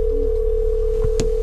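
A mobile phone left inside a parked car at a Norwegian ferry terminal gives a single steady electronic tone lasting just over a second. A brief click follows near the end.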